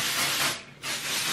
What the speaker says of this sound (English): texturizer spray, but it gives some hold to the hair from Drybar